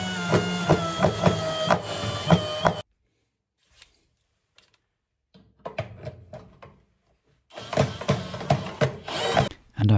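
Phillips screws being driven into IKEA draining racks, a bursty whirring and ratcheting with clicks in two spells separated by near silence, fairly close and with no talk.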